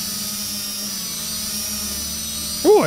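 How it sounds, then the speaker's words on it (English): Steady whirring drone hum from the video game Kill It With Fire, a constant buzzing tone that holds level throughout, ending with a short brighter rising-and-falling sweep near the close. "Ooh, I can hop over the house with the drone."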